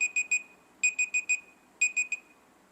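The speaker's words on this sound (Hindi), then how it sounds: "या फिर टाइमर या अलार्म को आप स्टॉप या स्नूज कर सकते हैं" A Google Pixel 6a phone alarm rings in quick bursts of high beeping tones, first three, then four, then three, with short pauses between the groups, heard close and clear with no voices.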